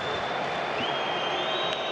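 Football stadium crowd at a Galatasaray versus Bandırmaspor Turkish Cup match, a steady broad roar of applause and cheering filling the whole stretch, with a faint whistle-like tone running through it.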